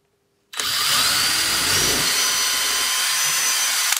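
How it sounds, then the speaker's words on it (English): A power drill starts abruptly after a short silence and bores a hole in plasterboard, whining steadily and loudly at close range until the end. "So once all prepped, we can go ahead and drill our hole."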